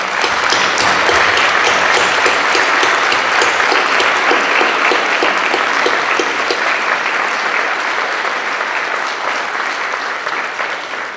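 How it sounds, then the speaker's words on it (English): A school student body applauds veterans at a Veterans Day assembly in Raton, loud, dense clapping from a large crowd in an indoor hall, sustained throughout and tapering slightly toward the end. "Let's give a big round of applause."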